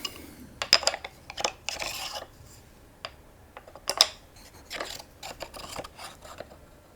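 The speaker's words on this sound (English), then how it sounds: "We just pop them in and clamp them in place." Smallrig carbon fiber camera rails are pushed into a mount and clamped, giving a series of short, close clicks, taps and scraping rubs at an uneven rhythm, fairly quiet, with no talking.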